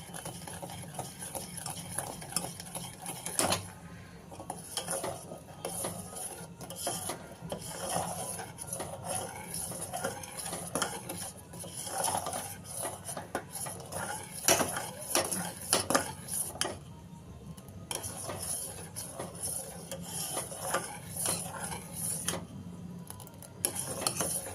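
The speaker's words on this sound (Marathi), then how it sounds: "हे 2 मिनिटाचं ढवळत असायचं" Sabudana kheer with sugar and cardamom being stirred in a pot, a steady run of clinking, scraping spoon-on-metal sounds with sharp taps, close and alone without talk.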